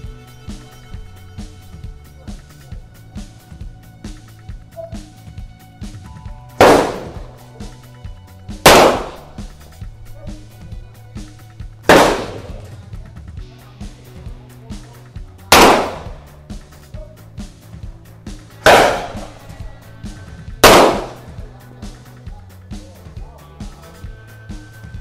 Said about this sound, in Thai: ระยะ10เมตรนะครับโอเคพร้อมแล้วเริ่มยิงนะครับ